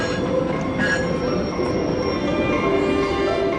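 A train runs on rails in Switzerland with a steady rolling rumble and high, sustained wheel squeal, loud and close, with no voices.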